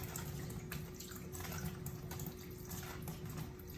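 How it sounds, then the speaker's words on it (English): Water poured into a bowl while a turkey is being cleaned and seasoned with lemon, lime and salt, a soft continuous running splash with faint clinks, quiet and close, with no voices. "I'll put a little bit of water in the bowl"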